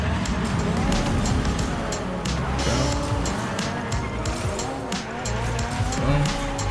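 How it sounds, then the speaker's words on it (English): A race car chain-drifting in Rocket Racing, tires squealing in repeated sliding arcs over a steady roaring engine, with a voice talking over the action. "Nice little chain drift right there."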